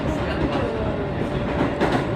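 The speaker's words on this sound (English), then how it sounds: "Surprisingly, this is not the weirdest Japanese train I've ever seen in my life." Japanese train running, a steady close rumble and rattle of wheels on track with faint clattering throughout and no talk.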